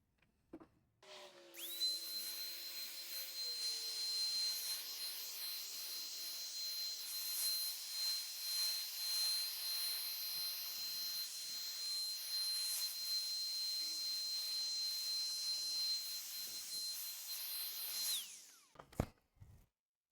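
A Tilswall Dreamer 400 HVLP paint gun runs for about seventeen seconds, a loud, shrill, steady whine with a high tone and airy hiss, starting and stopping abruptly with a few clicks.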